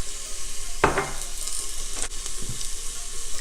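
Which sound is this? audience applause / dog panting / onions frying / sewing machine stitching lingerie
onions frying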